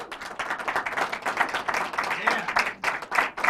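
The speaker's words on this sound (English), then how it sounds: "Y'all clap for her." An audience at a live business call event claps and cheers steadily, a dense patter of applause with voices mixed in.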